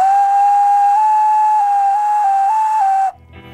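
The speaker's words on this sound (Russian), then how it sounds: "Свист должен получиться четкий и чистый." A homemade clay whistle is blown in one long, clear, steady tone that steps slightly up and down in pitch for about three seconds, then cuts off.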